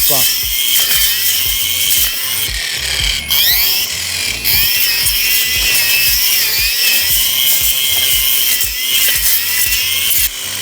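A Procraft cordless string trimmer with its guard removed cuts through a bush outdoors, giving a loud, continuous high whine broken by choppy thwacks and rustling as stems are hit.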